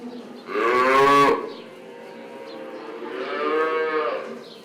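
Cows and calves in a calf barn on a Ukrainian farm give two drawn-out moos, one loud and close, the next softer and longer, over a quiet background.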